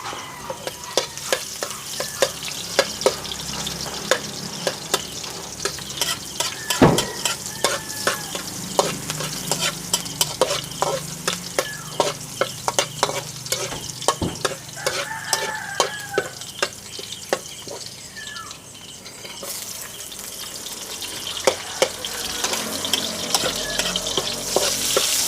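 Garlic fried rice (sinangag) being stir-fried: a constant close sizzle broken by rapid, regular scraping and tapping of a spatula on the pan, continuing without pause and with no talk.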